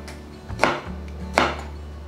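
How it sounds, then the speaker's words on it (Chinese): A knife chops enoki mushrooms finely on a cutting board for a vegetarian bitter gourd dish: two distinct, sharp chops about a second apart over a low steady kitchen hum. "这一道提升出鲜味，所以切碎一点，"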